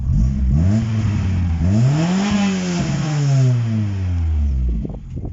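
Vauxhall Corsa with a home-built custom exhaust revving hard, the engine note sweeping up and down through several loud, close throttle blips and rising pulls.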